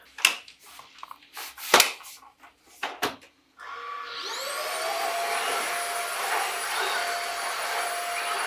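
A MooSoo K17U cordless handheld vacuum cleaner switches on after several clunks and handling knocks, then runs with a loud, steady high-pitched whine and airy rush close by.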